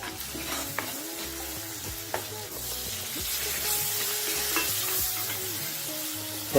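Ginger, garlic, turmeric, asafoetida and garam masala fry in hot oil for a spicy prawn curry, giving a continuous close sizzle broken by stirring scrapes and a few clinks of a spoon against the pan.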